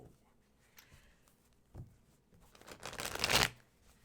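A deck of tarot cards being shuffled: a few soft taps and rustles, then one brisk, louder riffle near the end, close and alone without speech.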